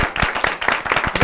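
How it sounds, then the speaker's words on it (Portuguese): Brief scattered applause from a small live-show audience, a quick burst of sharp, close claps in an uneven rhythm. "Aplausos para a Vitória, gente."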